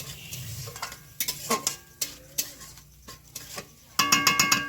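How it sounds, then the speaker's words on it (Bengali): Soaked rice stir-fried with spices in a pan for a pointed gourd and rice dish, heard as a run of scraping spatula strokes and light clinks, ending in a quick burst of louder rhythmic scrapes. "এবারে চালটা মশলার সাথে ভালো করে একটু কষে নেব"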